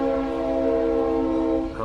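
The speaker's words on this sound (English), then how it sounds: "Train coming by." A passing train sounds a long, steady, loud horn with a rich chord of tones, held unbroken before fading slightly at the end, with no talk over it.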